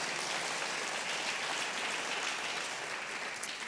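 A church congregation breaks into sustained applause during a Sunday service, a dense, even roar of many hands clapping together that holds steady throughout without voices.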